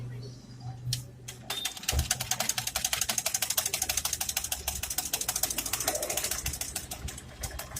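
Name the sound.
sewing machine stitching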